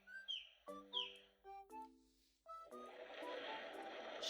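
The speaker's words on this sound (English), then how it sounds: "Different types of birds." Bird calls played from an ocean-themed pop-up sound book: a sequence of short separate chirps and whistled notes, then a sustained chattering flock-like burst for the final seconds.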